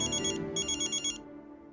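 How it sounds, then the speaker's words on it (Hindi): A phone ringtone in a Hindi TV drama scene trills in two bright electronic bursts separated by a short gap, loud and close, ending after about a second and a quarter with no talk over it. "वापस से कहीं उन्हीं का तो फोन नहीं आ रहा है"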